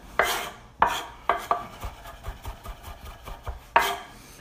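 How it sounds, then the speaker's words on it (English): A knife mincing dry garlic cloves on a cutting board: sharp chops land at an uneven pace, several strong hits spread among softer rapid taps and scraping rocks of the blade, close and clear with no speech. "run your knife through there, make sure you get a good mince"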